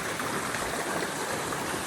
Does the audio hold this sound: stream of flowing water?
yes